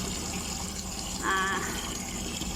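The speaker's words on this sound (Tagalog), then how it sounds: "So ayan, mga kalahating balding tubig guys." Water gushes steadily into a bucket with a constant splashing rush. A short higher tone swells briefly in the middle.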